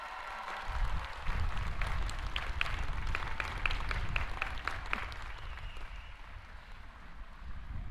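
A large commencement crowd at Miami University breaks into an enthusiastic round of applause, swelling quickly into a thick, sustained clapping roar that slowly thins toward the end.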